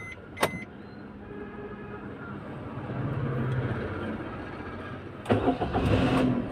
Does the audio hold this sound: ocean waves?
no